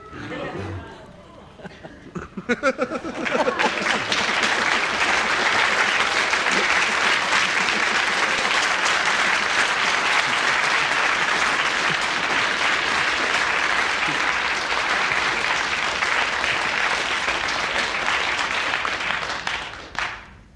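A radio studio audience claps after a panel game story, with a few scattered claps building quickly into loud, sustained applause and some chatter before fading at the end.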